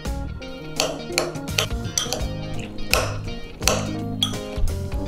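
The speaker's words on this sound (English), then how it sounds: "let's give this a good stir" A spoon stirs pickling onions seasoned with salt and ground pepper in a bowl, giving a run of fairly close, irregular clinks and taps against the bowl's sides with music playing underneath.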